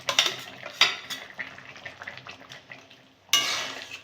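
Pumpkin stems and boiled potatoes stirred with poppy seed paste in a pan: sharp utensil clinks against metal at the start, then soft, irregular scraping and shuffling, ending in a louder rush of stirring.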